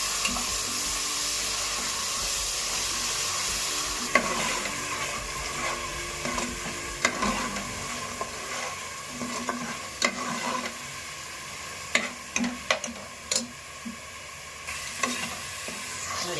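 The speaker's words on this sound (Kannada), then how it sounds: "ಹಾಕ್ಬಿಟ್ಟು ಚೆನ್ನಾಗಿ ಹಸಿ ವಾಸನೆ ಹೋಗೋವರೆಗೂ ಉರಿಯ" Masala for a traditional mutton head curry frying in oil while being stirred, a steady sizzle broken by sharp spoon scrapes and clacks against the pan, close and clear with no talking.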